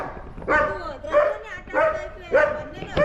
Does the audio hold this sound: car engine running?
no